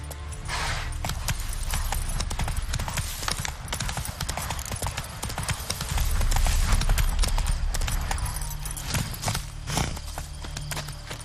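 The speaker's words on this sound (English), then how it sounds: "Run, Roach." A horse's hooves gallop in rapid, rhythmic clip-clop beats in the video game The Witcher 3, loud and continuous over a rumbling game soundscape.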